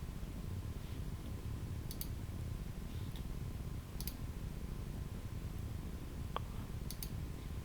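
Sparse, faint mouse clicks at a Windows 10 computer during Python and PyCharm setup, a few isolated ticks spaced seconds apart over a steady low background hum.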